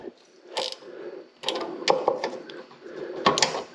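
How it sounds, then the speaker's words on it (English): A small hand ratchet tightens bolts on a pressure washer pump, its clicking in quick bursts up close with short pauses between strokes and no talking. "I'm just using this little bitty ratchet"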